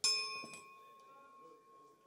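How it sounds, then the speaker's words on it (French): A single bell is struck once at a general assembly meeting, a bright metallic ding with a clear ringing tone that slowly decays over a couple of seconds, faint murmurs behind it. "un coup de cloche, on est prêt?"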